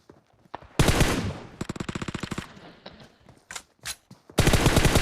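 An M4 rifle in a battle royale video game lets off loud, rapid bursts of automatic fire, one rattling rhythmic volley in the middle, with short isolated shots and a final heavy burst.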